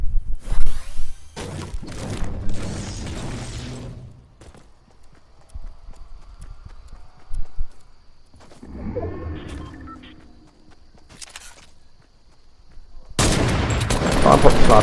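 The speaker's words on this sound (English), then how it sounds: "I popped the sniper shot on the guy in front of me" Fortnite gunfire including a heavy sniper shot, heard as sharp loud bursts of game shots and effects separated by quieter stretches, with a dense burst of firing at the end.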